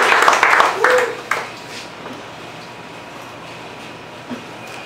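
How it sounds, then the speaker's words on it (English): An audience at a literary reading at the Pen and Pencil Club gives a short burst of applause that quickly dies away, leaving a quiet room with a faint murmur and a stray knock. "One more round of applause."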